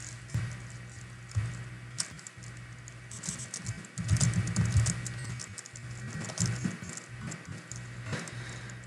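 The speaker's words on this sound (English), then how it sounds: "type in the rule name" Fingers tap out a rule name on a phone or keyboard, giving soft irregular patters and clicks in bursts against a faint steady hum, with no speech.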